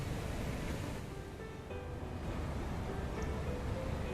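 Water flowing at the old Adinimmayapalli Dam in Kadapa, a steady broadband rush with wind buffeting the microphone, fairly faint and continuous with no voices.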